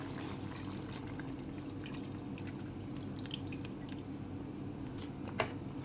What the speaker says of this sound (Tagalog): lalagay na po natin yung dugo